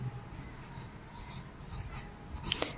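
A pen writes on paper, faint scratchy strokes and short scribbles close by, a few slightly sharper ticks near the end, with a quiet room hum underneath.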